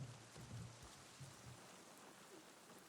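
Soft, steady rainfall patters in Avatar Frontiers of Pandora, a faint continuous hiss with a low hum underneath and no voices.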